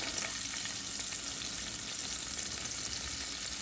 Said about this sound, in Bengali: তেজপাতা আর আদা। এই আদাগুলো দিয়ে ফ্রাই করব।